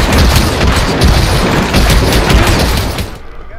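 Loud, dense booming blasts from a shotgun in the stealth game Hitman: Absolution, with heavy low-end thumps packed closely together for about three seconds before cutting off abruptly.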